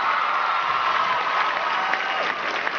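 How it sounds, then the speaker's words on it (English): Audience applause at a stand-up comedy show, a steady dense wash of clapping from a crowd that holds for a few seconds and fades slightly near the end. "Big round of applause."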